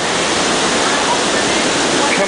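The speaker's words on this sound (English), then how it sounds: "And you can hear the waterfall." A waterfall in Khao Yai National Park, Thailand, roars in a loud, constant, full-spectrum rush of falling water heard close up, with no breaks.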